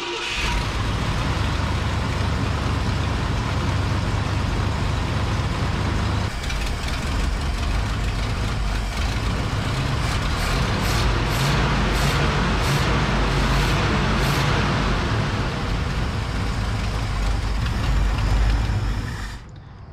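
The engine of a 1972 Ford Ranger XLT camper truck runs steadily with exhaust leaks, a loud, continuous low rumble and roar with a rapid ticking pulse partway through.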